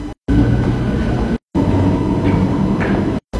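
Suburban electric train rumbling at a Berlin station, a loud continuous rolling roar broken by a few brief silent gaps, with faint squeals and no speech.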